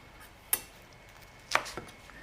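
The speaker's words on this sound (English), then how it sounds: "Next thing that we're going to do is cut up the shiso leaves" A knife cuts through shiso leaves on a board with a few sharp, isolated knocks: one clean chop, then a quick cluster of two or three taps a second later, close and fairly quiet.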